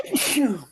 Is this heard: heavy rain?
no